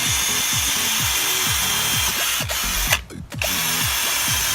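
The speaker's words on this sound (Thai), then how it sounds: "มาลองเจาะไม้เนื้อแข็งให้ดูนะครับผม" A 24V cordless drill bores into a 3-inch hardwood board, its loud, whining motor running continuously with repeated rhythmic bursts as the bit bites into the wood, briefly dropping out near the end; no voices.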